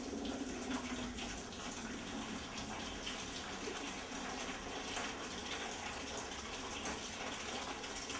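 Steady broadband rush of water poured from a bucket, splashing, continuous and fairly close, with faint clinking in the background and no voices.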